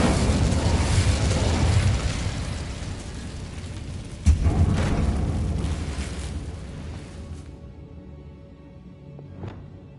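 A loud, rumbling fire-spell blast in Hogwarts Legacy fills the clip with a roaring burst of flame, a sharp impact partway through, then a fading crackle and a faint whoosh near the end.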